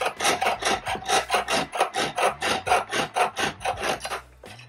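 A hand saw blade cuts slightly tapered tabs, likely in metal for tab setting, with a steady rhythm of about fifteen close, rasping back-and-forth strokes that slow and stop near the end.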